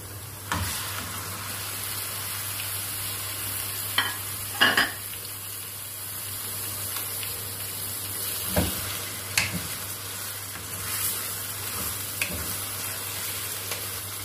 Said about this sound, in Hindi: अब हम इसमें शामिल कर देंगे चिकन